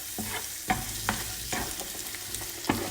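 A large spoonful of butter sizzles and crackles in a pot on the stove while popcorn is being made, with a soft frying hiss broken by several sharp scraping clinks of a spoon stirring against the metal.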